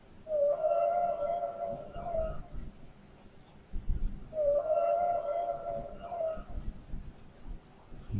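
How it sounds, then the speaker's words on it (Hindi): Two long, tonal whale calls, each a sustained moaning note lasting about two seconds, separated by a pause, with faint low rumbling background in between. "तो चलिए स्टूडेंट्स अब व्हेल की साउंड सुनते हैं।"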